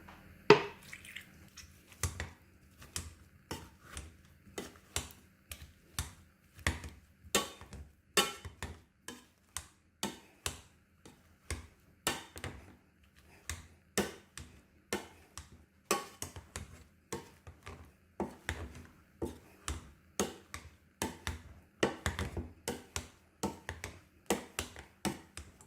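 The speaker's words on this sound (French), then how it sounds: "Je vais l'écraser avec un petit peu de beurre et juste un petit peu de lait." Boiled potatoes being mashed with butter and a little milk, a steady run of soft, close, squelching taps repeating roughly twice a second for the whole stretch, with no talk.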